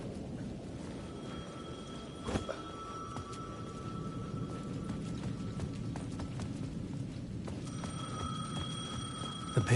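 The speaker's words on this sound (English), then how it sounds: "The payphone at the edge of the plaza was ringing again." A payphone rings at the edge of a plaza in the video game Alan Wake 2, with faint repeated ringing bursts over a low ambient hum, quiet and somewhat distant, with no talk.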